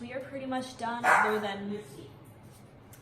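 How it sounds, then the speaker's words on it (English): A pet dog barks and yips a few times close by, its sharp calls overlapping someone speaking, then fading toward quieter background near the end. "excuse my dog barking"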